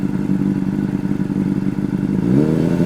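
A motorcycle idling in first gear with the throttle preloaded during slow-speed riding practice, a loud, close, steady low engine rumble that lifts in pitch near the end as the revs climb.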